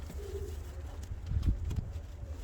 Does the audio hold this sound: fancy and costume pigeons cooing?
yes